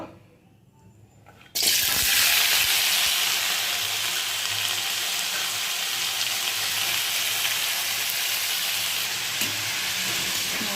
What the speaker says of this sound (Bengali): আলু ভাজা করবো কড়াইতে তেল দিয়েছি গরমও হয়ে গেছে আলু ভাজা করে নেব